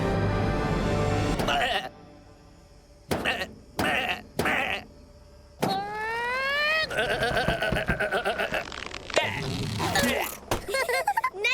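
Cartoon sheep bleat repeatedly in loud, wavering cries, close up and interleaved with short silences and bursts of sound effects.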